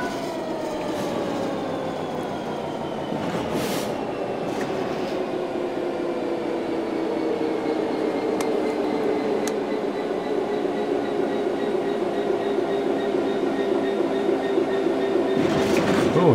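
A train coasts on level track in Train Sim World 3, a steady rolling rumble with tonal hum and faint wheel clicks, gradually easing in pitch over a long, continuous stretch, close and even.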